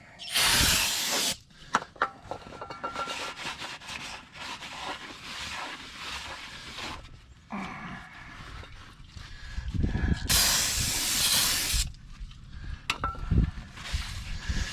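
Two long hissing bursts of brake cleaner aerosol spray on front disc brake parts, one at the start and one later, with clattering and handling noises in between.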